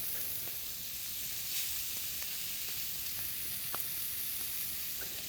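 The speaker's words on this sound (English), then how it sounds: "We want to just get a good hard sear on that one side." Hamburger steaks sear in hot oil in a pan, giving a steady, close, even sizzle that runs unbroken with no one talking.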